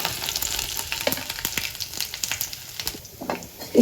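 Dried chillies, ginger and cumin fry in hot oil for dal, a close crackling sizzle with scattered pops and stirring scrapes, loudest near the end.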